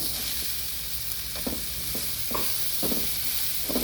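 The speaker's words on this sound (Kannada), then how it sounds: "ಈ ಬೇಯಿಸಿಟ್ಟಿರೋ ಅವರೆಕಾಳನ್ನ ಹಾಕ್ತಾಯಿದ್ದೀನಿ" Boiled field beans go into a frying pan of chutney, raising a loud, continuous sizzle with scraping stir strokes and soft knocks repeating over it.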